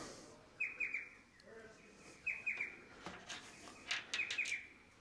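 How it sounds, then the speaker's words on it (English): A small bird sings outdoors, far off and faint, repeating short high chirping phrases in bursts over a low rural background hum. "There's a little bird they're singing out."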